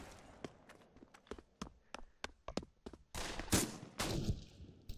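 Shotgun blasts in the VR shooter Pavlov VR, a string of sharp separate reports at an uneven pace, with a heavier burst of gunfire and noise near the end.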